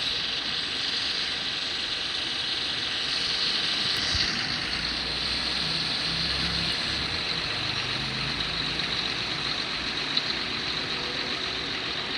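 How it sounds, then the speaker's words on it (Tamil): A coach bus engine in a bus simulator game runs in a high gear with a continuous labouring drone and some low rumbling pulses partway through. No one speaks. "அடிக்கிற மாதிரி சவுண்டு கேட்குது"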